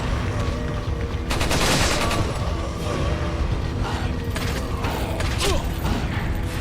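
Enemy gunfire in Resident Evil 4 on GameCube: a burst of rapid shots around the two-second mark, then scattered shots and mechanical clatter over a steady, busy game soundscape, with no talking.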